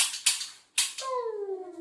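A toy gun fires two sharp, close cracks in quick succession during a birthday surprise. A falling electronic whistling tone follows and trails off.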